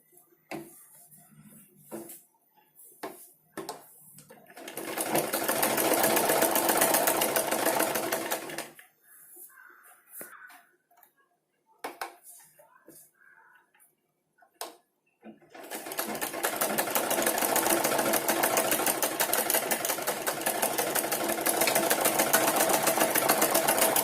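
A sewing machine stitches a blouse in two long, loud runs of rapid, even whirring, separated by a quieter pause filled with clicks and handling noises.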